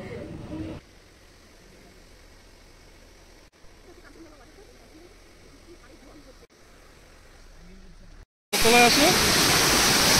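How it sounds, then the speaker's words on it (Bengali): Kanchenjunga Waterfall near Pelling in Sikkim, a broad steady rush of falling water, fairly faint and distant for most of the stretch, then suddenly loud and close near the end. "এটা হলো কাঞ্চনজঙ্ঘা ওয়াটারফল। দেখুন কি হারে জল পড়ছে"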